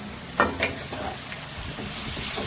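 Okra simmering and being stirred in a pan for a Telangana-style bendakai pulusu, with a steady soft sizzle broken by a few sharp scrapes and clinks near the start.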